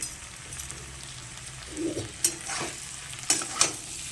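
Spices with a pinch of sugar fry in a pan for an aubergine dish, a constant close sizzle broken by a few sharp clinks and scrapes of stirring, with no talk.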